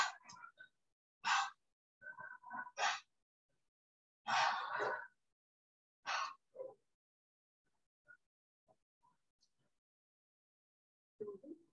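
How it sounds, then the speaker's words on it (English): A yoga class exhales through the mouth in a series of short, breathy puffs with a few gasping breaths, faint and irregular, spread over several seconds and then trailing off into quiet. "exhale through mouth."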